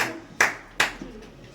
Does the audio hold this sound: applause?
yes